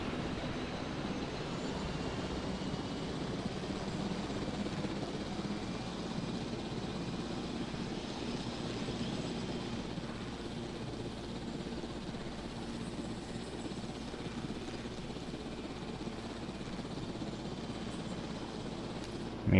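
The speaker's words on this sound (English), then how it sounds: "It wants me to use the Ranger helicopter" A Ranger helicopter in the video game Jurassic World Evolution drones with a steady, continuous rotor and engine rumble, unchanging and moderately loud for the full stretch.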